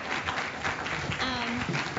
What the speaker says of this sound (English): you can get a round of applause